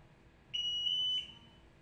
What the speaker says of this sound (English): The ALTAIR 5X is now performing a self-test, and acoustic and vibration alarms as well as LED signals will be tested.